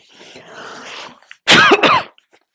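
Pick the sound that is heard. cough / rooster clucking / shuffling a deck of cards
cough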